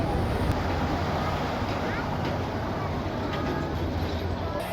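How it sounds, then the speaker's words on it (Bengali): A Karatoa Express passenger train pulls out of Bogura railway station, heard as a steady low rumble and broad rolling noise that fills the whole stretch without letup, with no clear speech over it. "এখন আমাদের ট্রেনটি বগুড়া ছেড়ে লালমনিহাটের উদ্দেশ্যে যাত্রা শুরু করছে"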